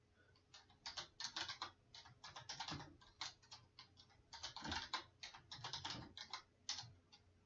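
Computer keyboard keys typed quickly in irregular bursts with brief pauses while a password is entered, fairly close and moderately quiet, with no talking.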